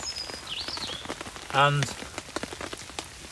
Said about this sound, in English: although it's wet, it's raining